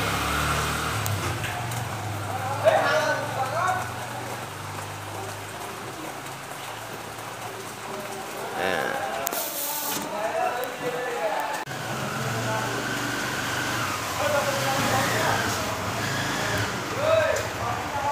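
Heavy rain pours steadily over a flooded, broken road at Hamidpur crossroads market, a constant broadband hiss with occasional louder gusts and a passing vehicle rumble beneath, while someone speaks over it.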